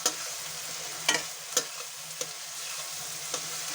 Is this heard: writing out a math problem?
no